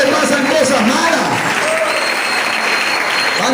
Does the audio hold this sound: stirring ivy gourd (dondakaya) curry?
no